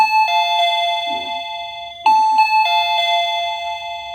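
A VOYE wireless doorbell chime plays after its button is pressed, a loud, clear electronic ding-dong melody of bright sustained tones that repeats, restarting midway, with no one talking.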